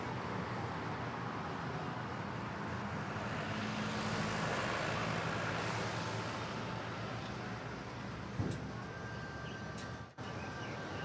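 An airliner takes off from runway 13 at Manila Airport, heard as a loud, steady broadband engine roar that swells in the middle and then slowly fades, with no talking.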